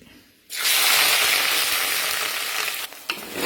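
Crushed shallots hit hot coconut oil with fenugreek seeds, bursting into a sudden loud sizzle after a quiet start that stays steady and close, briefly dipping near the end.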